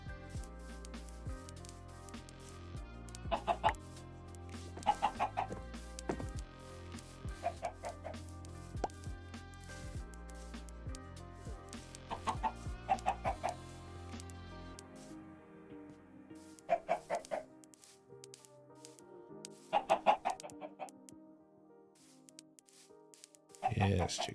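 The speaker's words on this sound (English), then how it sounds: "Chickens, come on, chickens." Minecraft chickens cluck in short repeated bursts scattered through a game soundtrack, with a player talking over them.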